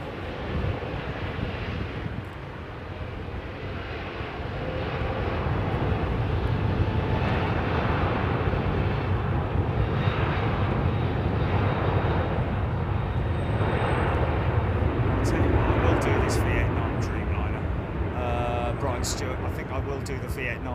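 A Vietnam Airlines Boeing Dreamliner jet airliner gives off a continuous, broad engine roar heard from a distance over wind noise, while someone talks over it the whole time.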